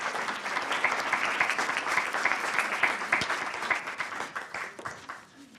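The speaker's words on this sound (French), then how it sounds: "On l'applaudit chaleureusement" Steady applause from a conference audience, dense and continuous, gradually tapering off near the end.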